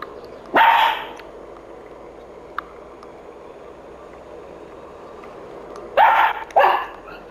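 Pet dogs at home bark in short bursts, one sharp bark early, then two closely spaced barks near the end, with quiet room tone between.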